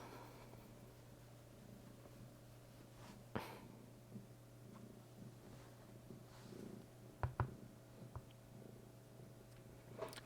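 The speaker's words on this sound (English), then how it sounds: "I would turn the microphone up so the purrs are louder" A cat purrs softly and steadily throughout, a low continuous rumble close to a quiet microphone, with a couple of brief louder bumps near the end.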